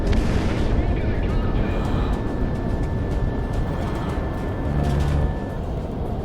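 An aircraft cannon firing in the Project Wingman combat flight game, a loud, continuous rumbling roar over a steady engine drone that lasts several seconds.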